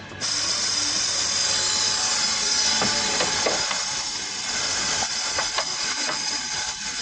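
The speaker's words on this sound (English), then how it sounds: "He's giving it another try with the vacuum cleaner." A vacuum cleaner used to bleed car brakes whines in a steady, loud, high-pitched drone throughout, with a few faint clicks and knocks underneath and no talking.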